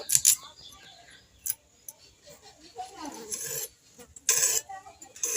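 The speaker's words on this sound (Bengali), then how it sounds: "এইভাবে গাজরটা আমি ছুলে নেব।" Carrots being peeled by hand for a pickle with young jackfruit, giving short scraping rasps in separate bursts with quiet gaps between them, close and fairly loud.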